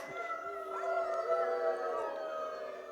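A loud, sustained howl from a person imitating a wolf, wavering in pitch, with other howling voices blending in the background.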